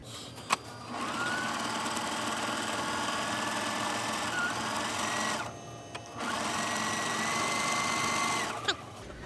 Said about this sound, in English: So we'll sew for a second.